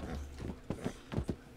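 A horse's hooves clip-clop on pavement in a Puerto Rico neighborhood, several sharp, close knocks in an uneven walking rhythm over low background rumble.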